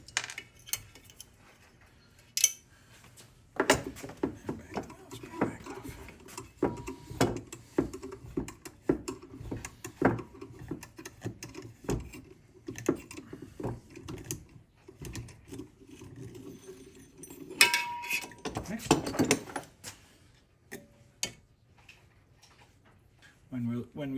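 A valve spring compressor pulls the valve keepers from a Triumph Spitfire engine head, giving sharp metallic clicks, clinks and ratcheting taps in irregular bursts, some close and loud. People talk in the workshop between the sounds.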